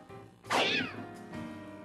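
The cat next door in a Charlie Brown Christmas story lets out one loud, close meow that slides down in pitch, followed by a fainter trailing cry.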